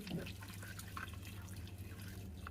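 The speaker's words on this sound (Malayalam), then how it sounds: "ഇതിലേക്ക് ഞാൻ ചുടുവെള്ളം ഒഴിച്ചു കൊടുക്കണം കേട്ടോ" Hot water poured into a cooking pot, a soft continuous splashing and trickling with some faint dripping, fairly quiet and close, over a low steady background hum.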